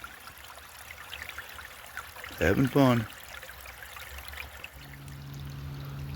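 A winter creek runs steadily in the background during gold panning, a faint continuous wash of flowing water, briefly interrupted by a man's short spoken remark.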